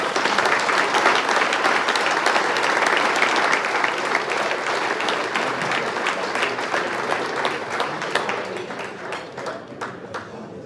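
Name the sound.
audience applause after keynote speech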